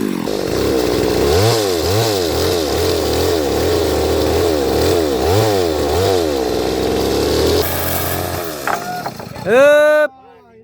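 A chainsaw cuts timber at a house under construction, revving loudly in repeated rising and falling surges before it winds down and stops. Voices are heard briefly at the end.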